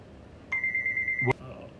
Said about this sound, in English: I got a phone call coming through here.